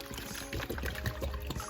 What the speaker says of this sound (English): pour it right in. So 2 parts cranberry juice, 1 part water.